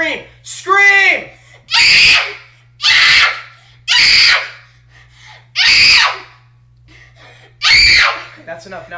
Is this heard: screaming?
yes